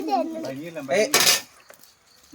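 Metal pots and utensils clink and clatter during outdoor cooking on a scooter, with a loud burst of clattering in the middle, close by, with voice-like sounds before it.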